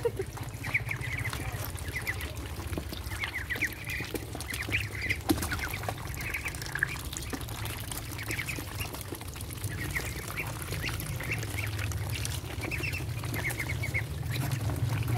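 Ducks quacking in a pen, repeated nasal calls in short bursts over a steady low rumble of background noise, moderately distant.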